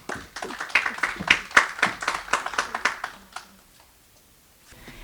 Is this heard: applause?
yes